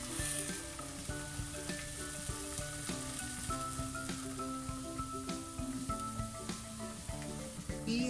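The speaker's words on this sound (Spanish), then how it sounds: "Vamos a ponerle nuestra Coca-Cola" Around 700 ml of Coca-Cola poured into a pan of sizzling pork ribs, giving a continuous, fairly soft frying hiss dotted with crackles and pops throughout.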